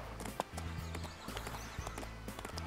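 Horse hooves galloping in a horse-riding video game, rapid rhythmic clip-clop beats repeating steadily over a low background, close and fairly loud.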